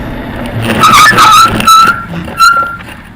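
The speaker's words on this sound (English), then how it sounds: "Time to hit the brakes." Bicycle brakes squeal as the rider slows to a stop outdoors, with several sharp high squeals in short bursts over rushing wind noise.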